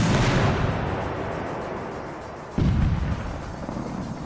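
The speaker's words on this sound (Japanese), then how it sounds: "しかしこの銃の発砲音ってのは何度聞いても嫌なものですね。" A Japanese matchlock gun fires with a loud, booming report at the start, its rumble decaying over a couple of seconds before a second blast-like burst hits again.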